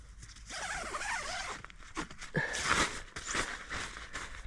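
A zipper is pulled open on the mesh flap of a Highlander Falcon bivvy bag, giving a close, scratchy, rasping run of teeth with uneven tugs across several seconds, and no voices.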